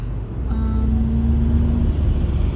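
A car drives along the road on the way home from work, heard from inside as a constant low engine and road drone. A faint tonal whine briefly rises over it, and no one speaks.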